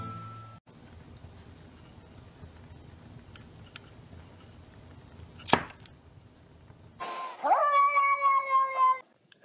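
A cat gives a loud, drawn-out meow near the end, preceded by quiet room noise and a single sharp knock or chop midway.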